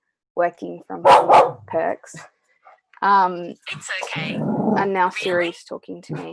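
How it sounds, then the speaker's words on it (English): A pet dog barks at home in a few sharp, close bursts, mixed in with a person talking steadily. "that is my dog barking"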